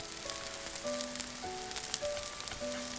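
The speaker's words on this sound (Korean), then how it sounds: "중약불에서 지져야 색이 나지 않고 노란 육원전이 됩니다." Seasoned meat patties sizzle in an oiled pan over medium-low heat while being pan-fried for a Korean holiday dish. The fry is a steady, soft hiss with faint crackles, heard alone with a few quiet tones in the background.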